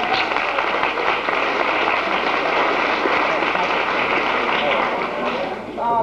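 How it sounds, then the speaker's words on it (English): Sustained audience applause at a senior show stage act, dense and loud for about six seconds with a few voices mixed into the clapping. "Give them a round of applause!"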